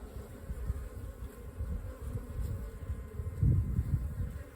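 Honeybees at an opened hive during a spring brood check give off a low, continuous buzz with gentle swells, heard faintly up close.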